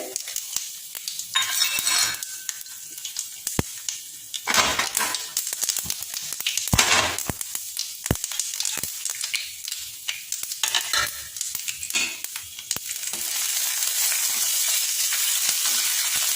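Sesame seeds sizzle and pop in hot oil for a tempering, a steady frying hiss broken by sharp crackles and occasional spoon-against-pan scrapes and clinks as they are stirred, alone without talk.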